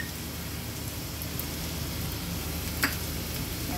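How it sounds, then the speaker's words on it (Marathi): Finely chopped green chillies frying with onions in a pan, a steady soft sizzle throughout with a brief clink near the end. "आता मी मिरच्या टाकल्या आहेत 2 बारीक चिरून, आपण थोड्याशा व्यवस्थित कांद्याबरोबर भाजून घेऊया"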